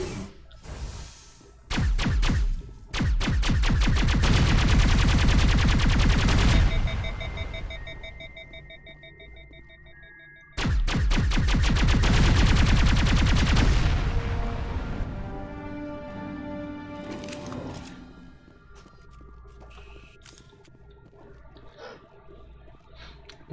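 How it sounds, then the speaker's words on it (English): Geth Pulse Rifle fire in Mass Effect, two long sustained bursts of rapid, buzzing pulses, loud and close, each lasting several seconds, followed by ringing tonal echoes and quieter scattered game sounds. "I guess that's what the Geth Pulse Rifle brings to the table."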